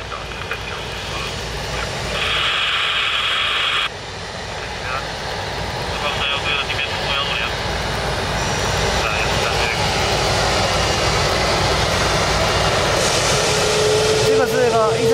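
Jet engines of a Sichuan Airlines Airbus A330 wide-body airliner roar on a rain-soaked airport just after a heavy downpour, a broad, rumbling drone that steadily grows louder and closer over the whole stretch.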